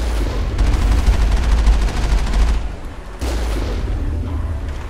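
Gunfire and a booming blast as a turret is shot and destroyed in the Mass Effect video game on planet Therum, dense rumbling bursts that cut out briefly then resume, loud and close.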